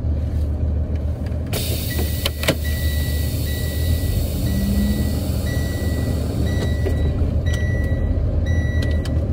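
A truck rolls slowly in first gear at about 5 mph during an air brake pre-trip test of the service brake. A steady low engine rumble runs throughout, with sharp clicks and a repeating electronic beep over it.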